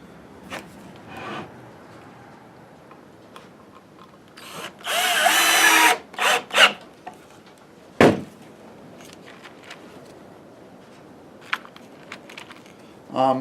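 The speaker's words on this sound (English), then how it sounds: "Take another screw, put it in the bottom." A power drill drives galvanized screws into a wooden planter, with a loud burst of whirring around the middle, then shorter bursts, a sharp knock and scattered light handling clatter.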